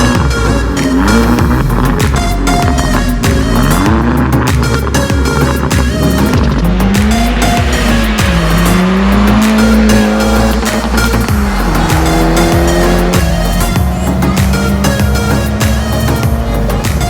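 A bagged Mk2 Seat Leon Cupra R drives hard, its engine note loud and close as revs climb and fall through gear changes, with tyre noise running under the whole stretch.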